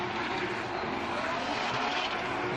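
Drift cars battle at a Formula Drift PRO2 championship event in Texas, their engines roaring and tyres skidding in a dense, continuous wash of noise, loud and steady throughout.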